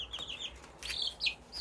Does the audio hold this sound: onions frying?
no